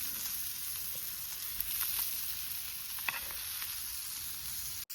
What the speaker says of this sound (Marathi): चला तर मस्त पैकी मासे भाजून झाले बघा कशी सुंदर पैकी अगदी दोडकारे मासे